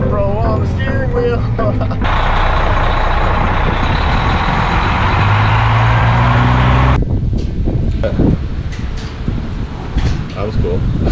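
A red Peterbilt truck rolls along on a Christmas Eve load, its engine rumbling steadily under someone talking, with a loud hiss of air brakes and road noise in the middle before the sound thins out.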